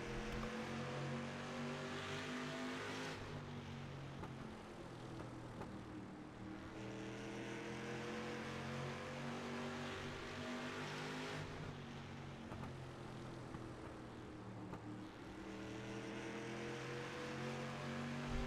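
Street stock race car engines roar continuously at Langley Speedway in a sim racing game, with layered droning tones from several cars running close together, pitch rising and falling as they accelerate and lift through the turns.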